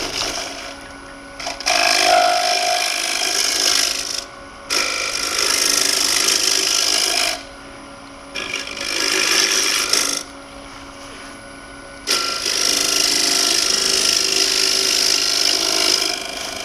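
Hollowing tool cutting into a wooden bowl spinning on a lathe, heard as several steady raspy scraping bursts of a few seconds each, separated by short quieter gaps, close and fairly loud.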